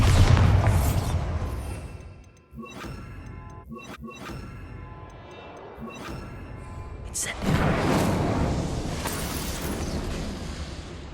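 Bombarda spell explosions in Hogwarts Legacy: a loud blast opens, followed by sharp bursts and thuds, a quieter stretch, then another swelling boom with crackling debris; a voice is heard over parts of it.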